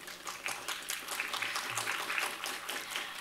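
A seated audience claps steadily together at a university talk, a dense, even patter of many hands filling the room at moderate loudness with no voices over it.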